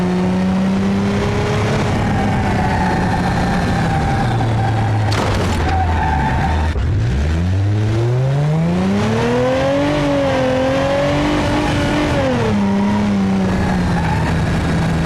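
A turbocharged 2.8-liter V6 S2800 Turbo in BeamNG.drive revs loudly and continuously, its pitch dropping low, then climbing and sweeping up and down through repeated throttle blips, with the engine close and dominant.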